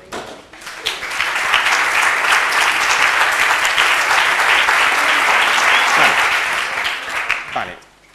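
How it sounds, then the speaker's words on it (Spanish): A standing audience at a conference session bursts into loud, close applause that builds quickly, holds steady for several seconds, then trails off into scattered claps. "¿Podríais aplaudir?"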